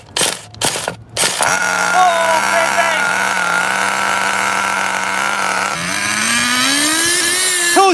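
An HPI Nitro RS4-3 Evo+ 1/10 nitro RC touring car engine starts up and runs at a steady, loud, buzzing idle. The engine note rises toward the end, and a voice speaks at the start.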